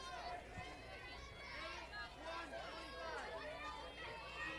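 Buzz of the St. Ed's crowd at a girls' state softball quarterfinal, a steady murmur of chatter, cheers and calls from many voices, moderately close and continuous throughout.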